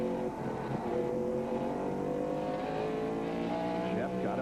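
Stock cars roar around the track in the 1996 Tyson Holly Farms 400, a dense, continuous engine drone with rising and falling pitch, partly covered by a commentator's voice.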